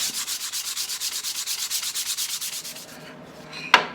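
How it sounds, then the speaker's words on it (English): Fast, even strokes of sandpaper scraping across pallet wood, hand sanding a base and top, close and steady, slowing to a stop before a sharp tap at the end. "Let's give a quick hand sand to these"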